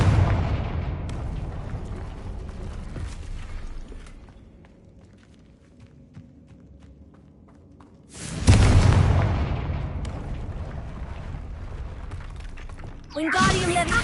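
Blasting-spell explosions in a Harry Potter video game, with heavy booming bursts near the start, again around eight seconds and at the end, separated by a quieter stretch of ambient rumble and footsteps.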